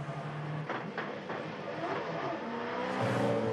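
A V8 Supercar race car engine at Sandown sounding abnormal, its uneven note breaking into a few sharp stuttering pulses before rising again, heard at moderate distance over track ambience.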